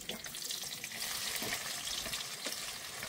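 Onions frying in oil with bay leaves in a pan for mutton curry produce a faint, steady sizzle broken by soft scraping stirs, close but quiet.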